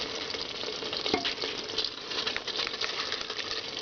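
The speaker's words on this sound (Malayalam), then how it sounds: "കുതിർത്ത് വെച്ചിരിക്കുന്ന ബസുമതി റൈസ് ആഡ് ചെയ്യാം" Soaked basmati rice pours and scatters into a pressure cooker over chicken for biryani, making a dense, steady patter and rustle of grains, fairly close, with no speech.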